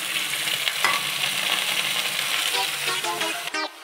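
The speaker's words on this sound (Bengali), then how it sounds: "তারপরে আমি এবারে সব সবজিগুলো এক এক করে দিয়ে দিচ্ছি।" Vegetables and potatoes fry in a pan for a Bengali sukto, giving a continuous close sizzle with a few stirring scrapes and clinks. No one speaks.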